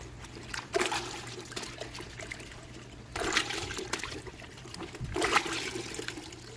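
Water sprays and splashes steadily over a car air filter being rinsed, with a constant trickling wash that swells in a few stronger bursts.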